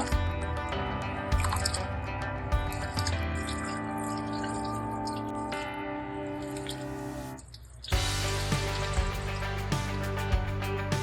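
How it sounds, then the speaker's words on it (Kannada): Two cups of jeera rice being washed in water by hand: drips, splashes and wet swishing close up, recurring irregularly over about eleven seconds. "ಅಕ್ಕಿನ ಚೆನ್ನಾಗಿ ವಾಶ್ ಮಾಡ್ಕೊಳ್ಳೋಣ"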